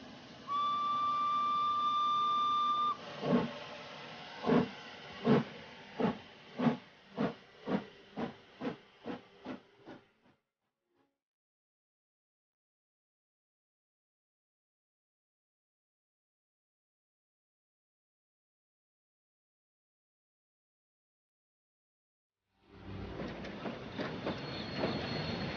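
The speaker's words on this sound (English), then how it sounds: "Fogg and Passepartout get on the train, but Fix stays in Bombay." A steam train pulls out of a station in India: a loud whistle, then a rhythmic run of chuffs and hissing steam that speeds up and fades, followed by a long silence and renewed hissing near the end.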